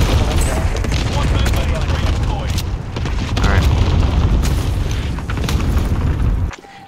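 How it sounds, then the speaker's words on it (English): Cluster strike explosions in Call of Duty Warzone: a dense, rolling barrage of heavy booms and crackling blasts that rumbles loudly for several seconds, then cuts off abruptly near the end. "Enemy cluster strike."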